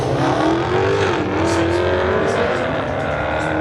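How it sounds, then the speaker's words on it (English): Dodge Demon launching in a drag race against a 2008 BMW on a street-legal drag strip, a loud continuous engine roar with rising revs and crowd-like background noise, mixed under an announcer talking. "And the Demon takes off real quick"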